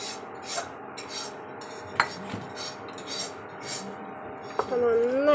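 Vegetable pulao being stirred in a cooking pot, with soft metal utensil scrapes and a few light clinks against the sides, close and fairly quiet, while a voice speaks briefly near the end.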